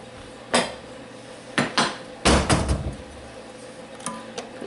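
Clinks and scrapes of a spoon and ladle against a pot and bowl as thick Texas red chili made with mild sweet peppers is dished up, coming in short clustered knocks with quiet gaps between.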